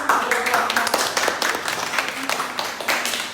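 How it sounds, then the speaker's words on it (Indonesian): A classroom group claps for a student presentation on religious education, producing a loud, dense run of hand claps that keeps going for several seconds with no one speaking. "tepuk tangan"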